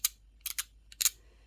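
Several quick, crisp snips from crafting scissors cutting paper to leave a deckled edge, heard as short bursts in close succession, quiet and close, with no voices.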